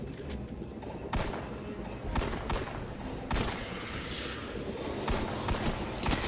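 Pistol fire in the Destiny video game cracks in quick, irregular shots over a dense, busy game soundscape, fairly loud and steady throughout.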